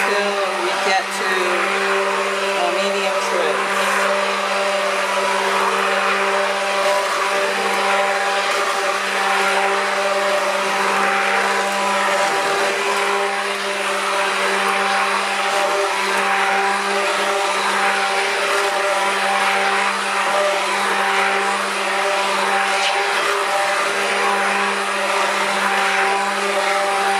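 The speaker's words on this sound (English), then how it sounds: "so we'll do low speed stick blend" A stick blender runs at low speed, mixing pine tar and oatmeal soap batter for hot process soap, giving a steady motor whine with a constant hum and no breaks across the whole stretch.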